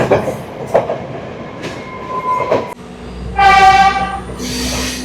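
A train rumbles and clatters past, then a loud horn blares with sustained tones as it rolls into Ragama Junction station in Sri Lanka, fairly close.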